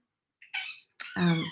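A pet cat gives two short, close meows in quick succession from an otherwise quiet room, the second one longer and fuller.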